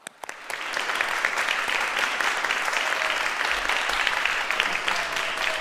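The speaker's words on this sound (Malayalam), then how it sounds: "ഒരാൾ കൈയടിക്കുന്നുള്ള കാര്യം ഉറപ്പായി." Clapping in the audience at a comedy stage show, a sustained run of crisp hand claps that starts abruptly and carries on steadily for several seconds without talk.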